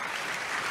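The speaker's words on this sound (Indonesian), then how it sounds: "Tepuk tangan dulu yang paling meriah buat Tuhan." A church congregation claps together during a sermon, a dense, steady burst of applause lasting under a second with no voices over it.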